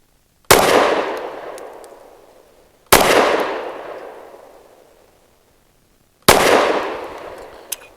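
A Kel Tec P15 pistol firing Blazer 115 grain aluminum case ammunition: three loud, sharp gunshots several seconds apart, each trailing off in a long echoing decay, with no talking.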